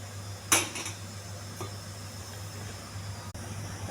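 An empty cooking pot is set down on a lit stove with one sharp, close metallic clunk and a faint follow-up knock, then only a quiet steady hum remains.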